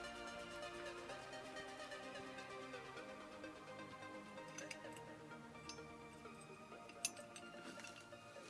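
Screws are driven into metal parts of an Altaya 1/8 scale K2000 model car, making faint irregular ticks and light metallic clinks over a soft background hum, with no talk.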